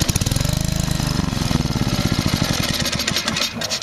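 A Generac 8838-0 small generator engine sputters to life and runs roughly, its loud, rapid uneven firing pulses close by with no talk.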